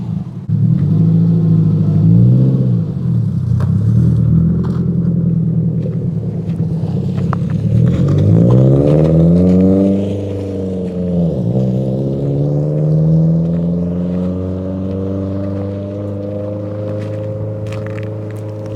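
A built Subaru STi car drives away, its engine revving up and down in several rising and falling sweeps, loud and close at first, then settling into a steady fading drone.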